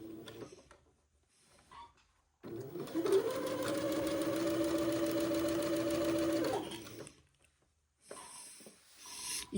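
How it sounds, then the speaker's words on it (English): A sewing machine sews the second pass of a French seam at 3/16 inch, one continuous close whirring run of about four seconds with quiet handling before and after, no talking. "Once again, just sewing it at about 3/16 of an inch, just to keep the first seam trapped inside the second pass of the French seam."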